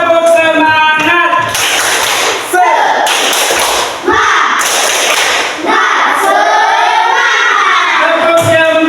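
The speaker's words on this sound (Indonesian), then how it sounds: "Kita tepuk semangat dulu ya. Tepuk semangat." Schoolchildren in a classroom doing rhythmic 'tepuk semangat' clapping, with loud bursts of claps alternating with chanted voices in a patterned rhythm, close and energetic.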